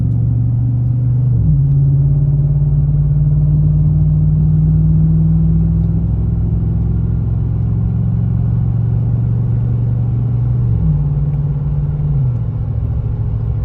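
A GMC Sierra pickup's engine, fitted with a Pedal Commander throttle controller, rumbles loudly under steady throttle, its low drone stepping up in pitch, holding, then settling and rising again.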